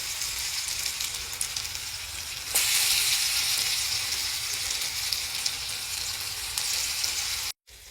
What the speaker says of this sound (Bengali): এখানে পেঁয়াজও ভাজাও শুরু করে দিলাম আমি